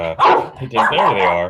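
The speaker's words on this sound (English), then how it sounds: "apologize for the upcoming dog barrage" Several dogs bark loudly in excited bursts as a woman arrives home, the barking overlapping a man's speech close by.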